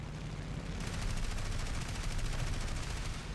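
Rapid automatic gunfire in the aerial combat video game War Thunder, a dense continuous rattle of shots over a steady engine drone, sustained through the clip with no talking.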